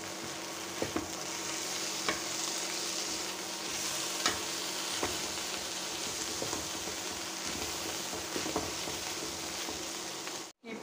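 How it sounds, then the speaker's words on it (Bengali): Dried fish, onion and dried chilies sizzle steadily in a hot pan, with repeated scraping stirs breaking through the crackle and no talking. "শুকনো মরিচ একসাথে ভেজে নিলাম"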